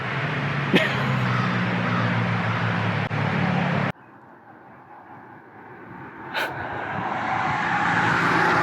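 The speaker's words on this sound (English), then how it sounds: "two cop cars go by. They just whizzed on by" Two police cars whiz past on a road, a loud close rush of engine and tire noise that cuts off sharply, then a second swelling pass with a brief sharp burst.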